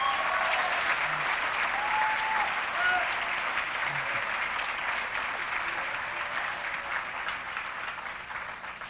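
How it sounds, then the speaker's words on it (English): Sustained applause from a large crowd, steady clapping that slowly tapers toward the end. "Big round of applause for them."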